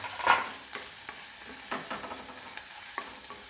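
Chopped shallots sauté in a clay pot for Kerala-style fish curry, a soft steady sizzle punctuated by several spoon scrapes and stirs, close up and without speech.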